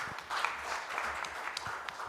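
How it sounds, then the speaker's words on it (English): Audience at a national e-payments strategy validation workshop gives a short burst of hand clapping, steady and moderately loud across the room, with faint voices mixed in. "Another hand clap for her."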